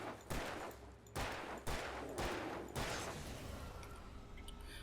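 Gunfire in Alan Wake Remastered, a rapid series of four loud, sharp bursts about a second apart, each trailing into a lingering rumble over a low game ambience.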